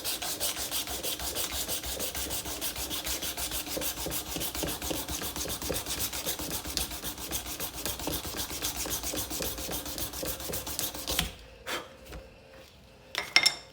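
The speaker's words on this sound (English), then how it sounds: "Let me sand a little here and then I'm gonna stop." A knife blade is sanded by hand in steady, rapid back-and-forth rasping strokes, close and continuous for most of the time, then stopping with a few scattered knocks and handling sounds.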